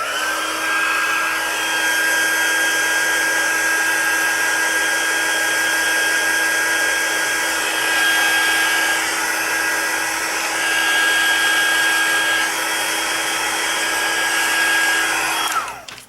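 A hair dryer runs continuously to dry a journal card, a loud steady whirring blow with a constant pitch from start to finish, then cut off at the end.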